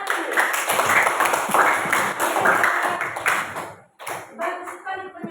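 A class of students in a school lesson claps together, a burst of crisp hand claps that fades to a brief pause before scattered clapping resumes, heard nearby over some background voices.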